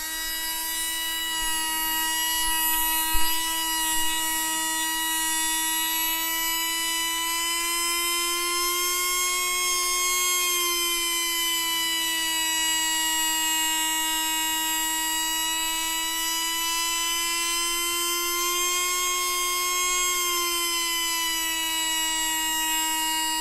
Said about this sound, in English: I'll get the motor running, obviously in the correct direction